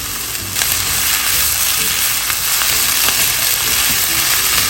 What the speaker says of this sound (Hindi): जैसे ही आपके प्याज सौटे हो जाए आपने क्या करना है, इसमें अपना चिकन शामिल कर देना।